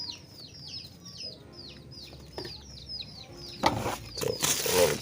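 Small young chickens cluck and peep in a steady scattered chorus of short calls, with a louder rustling burst near the end.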